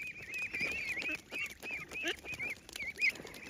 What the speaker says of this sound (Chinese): 这鸭子跑得飞快